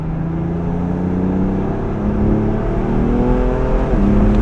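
A BMW M4 accelerating hard with wheelspin, its engine a loud, steady, rising drone with layered whining tones that swell slightly toward the end and no voices over it.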